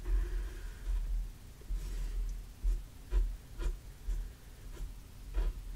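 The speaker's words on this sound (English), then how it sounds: "Let's just draw a little flower petal here." Soft scratchy strokes of a watercolor pencil on paper come in short, irregular bursts, close and quiet, with no one talking.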